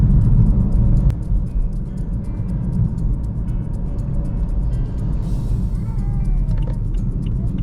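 A car drives steadily along a road, its engine and tyre rumble a loud continuous drone heard from inside, with muffled voices in the cabin.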